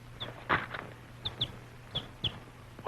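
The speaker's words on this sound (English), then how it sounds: "A chicken." Chicken giving a few faint, short clucks spaced irregularly, with soft rustles and thumps in between against a low background hum, in a Western film setting.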